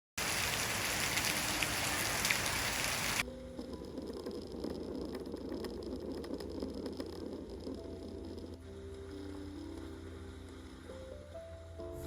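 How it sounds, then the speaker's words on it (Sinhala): Heavy rain heard from inside a room makes a dense, loud hiss at first. It then drops to a quieter steady patter with faint background tones. "ළමයි කාලේ ඉවර වෙනකොට ලොකු වැස්සක් පටන් ගත්තා"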